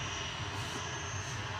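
A Ryanair jet bound for Pisa departs Manchester Airport, its engines a steady, fairly distant low drone that holds evenly through a brief moment, with no voices.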